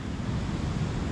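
Ocean waves and wind at the shore make a steady, loud broadband roar with no distinct breaks, close to the microphone.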